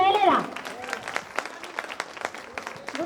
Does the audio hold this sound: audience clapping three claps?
yes